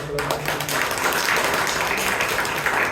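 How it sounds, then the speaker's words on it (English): Audience applause at a Toastmasters club meeting in Bangalore, a room of members clapping steadily and fairly close for a few seconds, with a voice or two murmuring underneath. "Give a good round of applause for our EVALUATOR."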